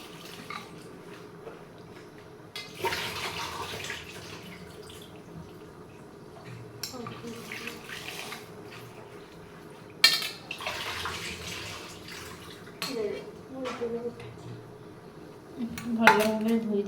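Dishes and utensils being washed with water, with clattering pots and cutlery, splashing and running water in bursts, close by, with some background voices at times.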